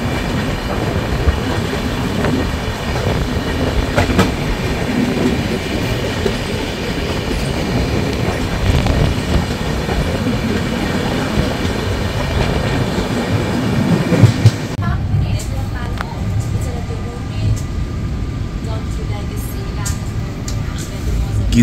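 Tourist Express with a Vistadome coach running through Gulma railway station, steady rumble and clickety-clack of wheels heard from onboard, the noise dropping sharply near the end, with a voice speaking.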